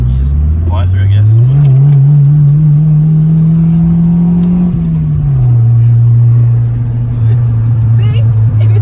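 Honda EG car with newly installed coilovers driving hard through a chicane, a loud close engine drone that climbs in pitch, holds, then drops and settles, with brief cabin noises.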